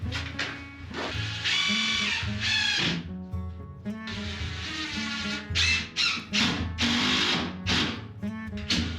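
A power drill drives screws during a courtyard makeover in a Portuguese house renovation, whirring in several bursts of rising and falling pitch with brief pauses between them, close and loud, with no talking.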